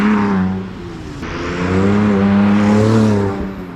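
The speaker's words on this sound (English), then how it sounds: "I had the car running, I had the car driving" The rebuilt engine of a once-totaled Porsche hums steadily and rises as it revs, a close, loud mechanical whir with a shifting tone that swells through the middle and eases near the end.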